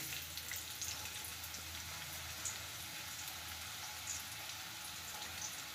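Chopped onion fries in a pan of oil with bloomed cumin seeds as part of a homemade burger recipe, giving a steady, faint sizzle that holds evenly throughout with no talking.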